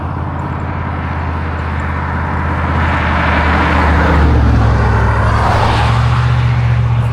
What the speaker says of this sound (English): The truck has seen better days. She's still moving.